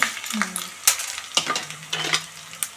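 Chana dal frying in a little oil in a small pan for a wood apple chutney, a soft sizzle punctuated by several sharp clinks and scrapes of a spoon against the pan, close and without talk.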